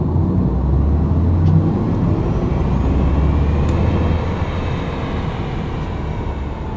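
An Audi e-tron GT gives off a steady synthesized electric drive hum, a low continuous tone with a smooth whooshing wash over it. It fades slightly toward the end, with no talk.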